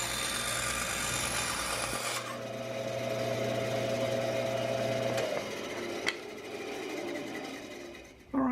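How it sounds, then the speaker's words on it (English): A bandsaw rips a board in a home workshop, its steady motor hum and blade buzz running for about two seconds before the cut ends and the machine winds down, with a couple of faint knocks afterward. "The bandsaw was already set up, so I did the ripping"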